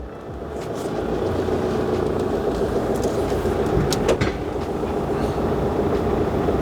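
A Carthago C-Tourer motorhome pulls forward with a steady, close engine and road rumble that stays even from start to finish, with faint higher rattles over it.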